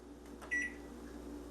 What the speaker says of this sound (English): turn off the timer on the microwave